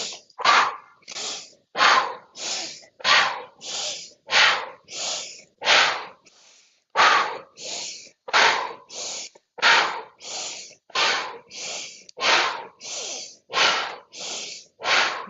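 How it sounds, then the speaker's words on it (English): Deep, forceful breaths during a breathwork and mobility exercise, around twenty sharp rhythmic inhale-exhale bursts in quick succession with a short pause midway, close and loud, no talking. "Inhale, big breath in."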